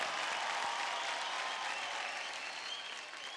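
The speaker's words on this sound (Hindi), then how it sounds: "एक बार जोरदार तालियां हो जाए" Steady, dense applause from the studio audience of the TV singing competition Superstar Singer 3, an even roar of many hands clapping that continues without a break and eases slightly toward the end.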